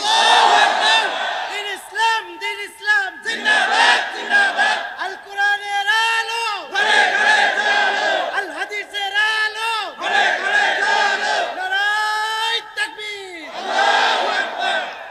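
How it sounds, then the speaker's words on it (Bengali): A large crowd at an Islamic gathering shouts takbir in unison, loud and close, in repeated surging bursts of massed voices. "আপনারা একজন তাকবীর দিবেন খালি গলায় দেন তো দেখি"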